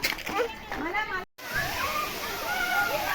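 Water splashes and pours from a small waterfall into a little swimming pool at a school picnic spot, a steady rushing wash with voices over it.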